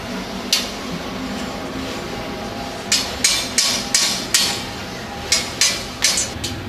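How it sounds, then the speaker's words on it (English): Hammer blows knocking the metal strips of a solar community cooker into position, a single strike followed by a rhythmic series of sharp, ringing hits, with a steady background hum. "Sometimes strips may not come in the position, so we have to hammer it and bring it into the position"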